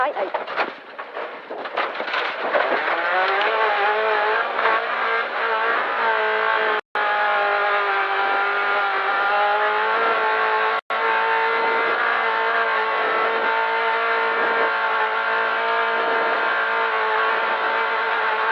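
Rally cars race along a stage, engines loud and close, revving high with a sustained roar and rising pitch, broken by two brief cuts, with excited voices partly audible over the engine noise.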